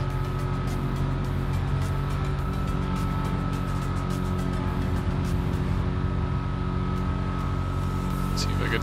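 A deep V8 engine of a custom drift truck in GTA 5 roars continuously at high revs, a loud, unbroken droning rumble throughout.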